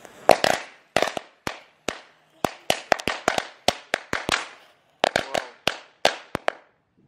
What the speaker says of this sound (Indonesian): eksperimen menyalakan mercon di dalam tanah hari ini